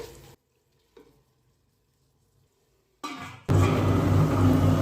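Tomatoes sautéing in a pan for coconut milk rice: a few faint stirs near silence, then a loud, steady frying sizzle with stirring that rises sharply near the end.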